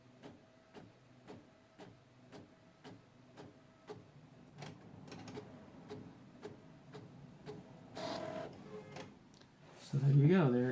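An Epson Expression Premium XP-640 inkjet printer printing full color photos, with steady rhythmic ticking and carriage passes, then louder feed and mechanical whirring near the end; a person speaks over it.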